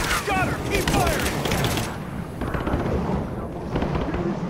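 Dense, sustained gunfire rattles loudly and continuously from a firefight in Rise of the Tomb Raider, fading toward the end, with the battle noise filling the whole stretch.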